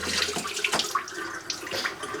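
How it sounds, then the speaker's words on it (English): Hot water running from a tap into a home birthing pool, a steady broadband splashing rush that continues through the whole short stretch at close range, with no voices. "Filling the pool up with hot water because it's freezing cold at the moment"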